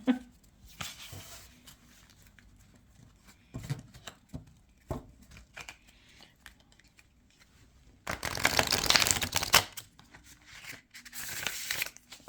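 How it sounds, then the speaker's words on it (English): A tarot card deck is handled and shuffled, with scattered riffs and taps early on, then a dense, louder burst of riffling near the end, fairly close and quiet. "let's see how it shuffles"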